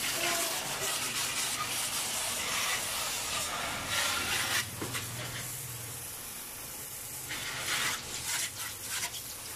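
Water spray hisses steadily while a window-type air conditioner is being cleaned, a broad continuous wash with brief louder bursts and a dip partway through, heard up close.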